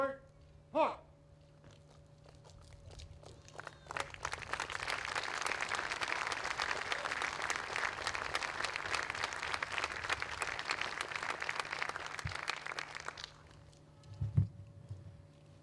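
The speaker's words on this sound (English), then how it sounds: "please, another round of applause for Mr. Gus Person and our living historian" An audience at an outdoor U.S. Army birthday ceremony at Fort Belvoir breaks into steady applause lasting about nine seconds, moderately distant, before fading out, with brief speech around it.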